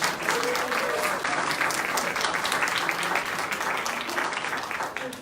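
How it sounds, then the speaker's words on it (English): An audience at a girls and young women support event gives a round of applause, sustained thick clapping from many people, steady and fairly close, tapering slightly toward the end. "Let's give them one more round of applause."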